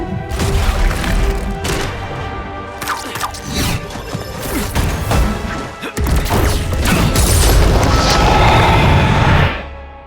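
The Sanctum collapsing in Marvel's Midnight Suns, a loud, sustained roar of crashing debris, booms and rumbling destruction that swells and then cuts off abruptly near the end.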